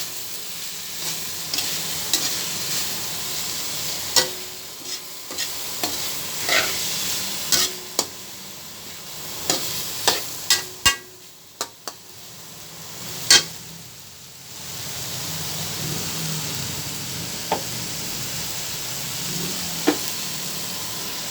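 Tofu fries in a hot pan for a tofu and kangkong dish, sizzling loudly and steadily while a spatula stirs with frequent sharp clacks and scrapes, briefly quieting midway.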